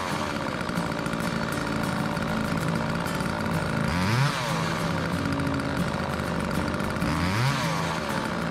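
A revived dead chainsaw engine runs steadily and loudly nearby, with a harmonic two-stroke buzz and two brief revs where the pitch sweeps up and back down.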